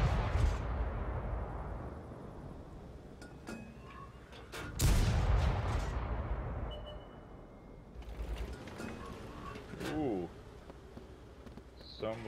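Gunfire from blind shooting in a video game: distant booming shots and scattered sharp cracks over a constant low rumble, with several heavier blasts standing out and voices talking intermittently.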